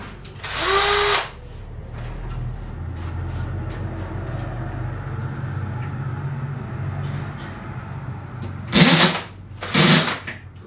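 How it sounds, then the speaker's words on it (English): A power drill with a step drill bit cuts a 22 mm hole during a kegerator build: a short loud whirring burst, then quiet, then two more close bursts near the end. "we'll go in with a step drill bit. That is 22 mils"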